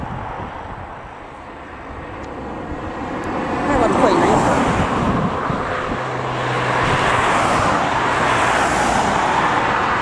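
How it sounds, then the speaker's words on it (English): Cars pass on a country road near Craignethan Castle, their broad swishing roar rising and fading in two long waves, mid-distance, with a brief low hum partway through. "So many cars passing about"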